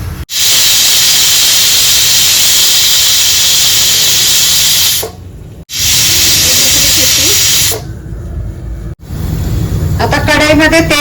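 A pressure cooker on a stove, cooking chicken kharda, lets out loud sustained hissing steam whistles, two long blasts separated by brief pauses, followed by fainter sputtering and a rising warbling tail.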